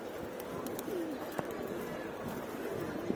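Pigeons coo softly at a rooftop loft under a cloudy sky, a few low, faint rolling calls set against quiet outdoor background hum, with a couple of small sharp knocks.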